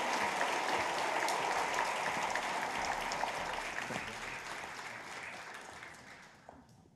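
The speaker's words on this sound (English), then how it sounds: "One more round of applause for Bryson" Sustained applause from a college showcase audience at Spartanburg Methodist College, a dense steady clatter of many hands that gradually thins and fades toward the end, heard alone without talk.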